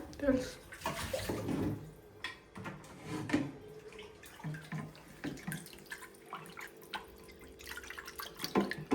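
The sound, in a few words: washing fish under running water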